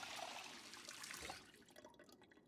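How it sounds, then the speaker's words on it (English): Water running and splashing as a bottle is filled from a tap in the zombie survival game Project Zomboid, a steady close flow for over a second that then tapers into scattered faint drips. "All right, let's fill up our water bottle."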